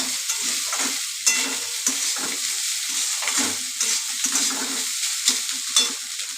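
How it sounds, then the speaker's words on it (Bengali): Leftover cooked rice is stir-fried in a pan with potatoes, onion, garlic and green chili. A loud, steady sizzle sounds close up, punctuated by rhythmic spatula scrapes and tosses, with no talking. "ভাতগুলো আলুর মধ্যে দিয়ে ভালোভাবে নাড়ছি, ভাজা ভাজা করছি"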